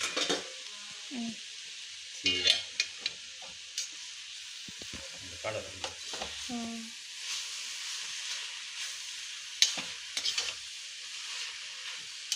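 Spinach curry being stirred in a pan, with steady frying sizzle and hiss throughout and scattered scrapes and clinks of a spoon against the pan, close and moderately loud, with no talk.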